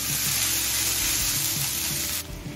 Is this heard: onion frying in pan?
yes